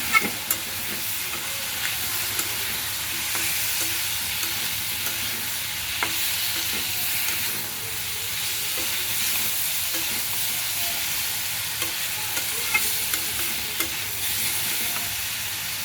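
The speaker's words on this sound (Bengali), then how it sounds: "আমার সবজি প্রায় কষানো শেষের দিকে" Mixed vegetables, with cauliflower, potato and eggplant, sauté in a pan for a fish curry. A steady close sizzle runs throughout, with scraping stir strokes scattered over it and no talking.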